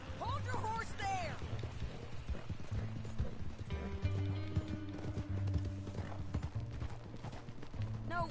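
Steady clip-clop of horse hooves trotting, with a brief whinny near the start and voices over a game-like background in Red Dead Redemption 2.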